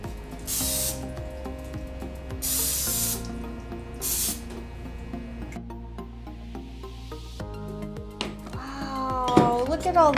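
A wet sponge loaded with water rinses out a pottery clay extruder, giving three short, loud spraying bursts of water in the first half, set against a steady tonal hum.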